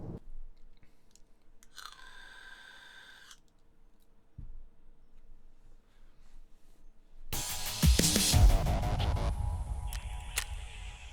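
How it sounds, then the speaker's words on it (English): A bone crunches in Escape from Tarkov amid scattered game effects: a short buzzing tone, a thud, then a loud crunching, crackling burst in the final seconds. "That's the sound of a bone crunching"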